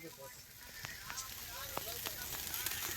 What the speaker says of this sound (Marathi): कांदा टाकला आता कांदा भाजून घ्यायचा बप्पा आधी